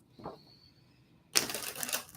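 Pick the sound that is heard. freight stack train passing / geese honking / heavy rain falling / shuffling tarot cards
shuffling tarot cards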